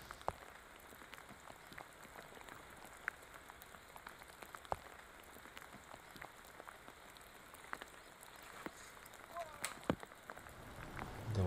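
Steady rain patters on a disc golf course at an outdoor tournament, a faint, even hiss with scattered drop ticks, under quiet commentary.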